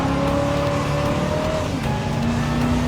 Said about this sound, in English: It's packing a high-performance V8 engine that just comes to life when you hit the gas.